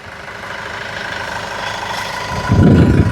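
A used car's engine idles up close at a Tiruchendur car dealership, a steady low rumble that swells louder toward the end, with no talking.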